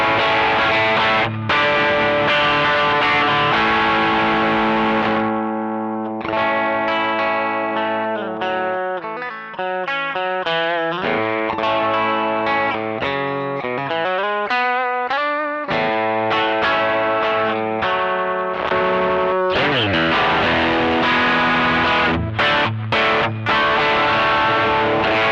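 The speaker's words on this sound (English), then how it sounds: "Still sounds like an overdrive pedal." An electric guitar played through the Strymon Sunset overdrive pedal rings out in loud, crunchy chords, then choppy rhythmic stabs and a riff, with sustained notes between phrases and no voices.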